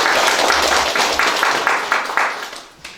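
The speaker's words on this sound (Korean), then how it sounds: "다시 한번 박수 한번 주시겠습니다" Applause from an audience at a Korean cooperative information meeting after an architect's presentation, with individual claps clearly audible in a steady rhythm, fading out toward the end.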